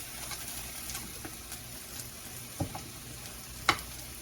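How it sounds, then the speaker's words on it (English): Potatoes fry in oil in a pan at an outdoor garden party, a soft, continuous sizzle punctuated by scattered small pops and one sharper crackle near the end. "these potatoes, and we're frying them"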